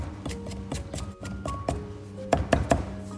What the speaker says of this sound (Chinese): 大蒜先拍破，生姜一块也是拍破，然后剁碎即可